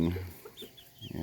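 Chickens cluck in a backyard run as newly introduced young birds mingle with the flock, a few soft near calls spread across a brief moment with quiet gaps between them.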